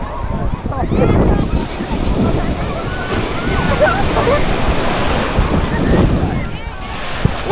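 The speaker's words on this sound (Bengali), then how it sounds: "ওই ঢেউটা বড়," Large ocean waves roll in and break on the beach at Puri, a loud, close, continuous surging roar with heavy wind buffeting the microphone as people talk and shout over it.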